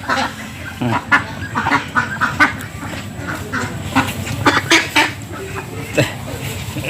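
Farm ducks, including a Campbell duck, call in short repeated honking bursts close by, mixed with other fowl and under a person talking.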